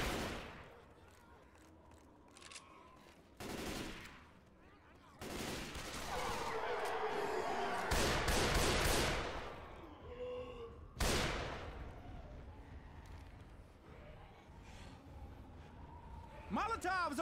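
Gunfire in the video game Left 4 Dead 2, with bursts of shots and loud blasts mixed with game noise and occasional voices, varying in intensity throughout.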